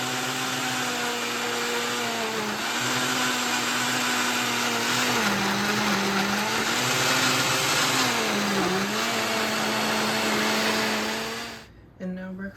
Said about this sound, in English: I'm gonna blend up this smoothie real quick